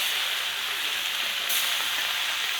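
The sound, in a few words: amudi fish frying in a pan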